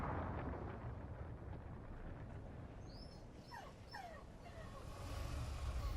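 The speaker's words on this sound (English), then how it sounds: "my dog is whining in the background" Dog whining in the background of a room, a few high, faint whimpers and yips rising and falling in the middle of the stretch, heard through a steady rushing background noise.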